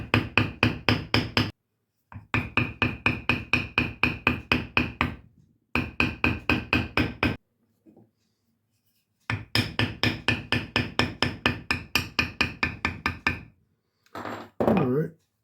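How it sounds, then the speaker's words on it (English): A small hammer strikes a leather tooling stamp to emboss a flower, giving fast, even rows of sharp taps in bursts with short pauses between them. "A little bigger hammer."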